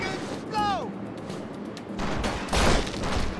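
Shotgun blasts in the game Urban Chaos: Riot Response, a pair of loud booming reports late in the stretch following a brief whine, set against game background noise and a talking voice.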